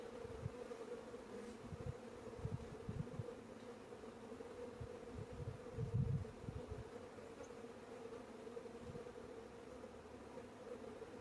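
Honeybees fanning and flying at the entrance of a hive holding a newly installed 2023 nuc, giving a steady, faint, close buzzing hum with occasional louder passes of single bees.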